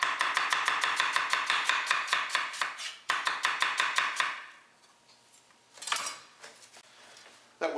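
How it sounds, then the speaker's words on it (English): A chef's cleaver chops a large Vidalia onion on a cutting board in rapid, steady, sharp knocks, a long even run, then a pause and a few scattered slower strikes, close and crisp. "And very large onions, this is a Vidalia here, you could use a cleaver."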